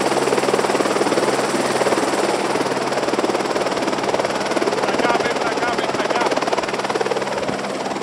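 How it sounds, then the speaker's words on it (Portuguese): Helicopter rotor and turbine noise, steady and loud throughout, at a military police battalion's Mother's Day event, with voices talking underneath. "Foi o seu primeiro voo de helicóptero?"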